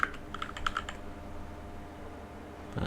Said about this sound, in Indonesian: Misalnya saya ketikkan huruf kecil semua.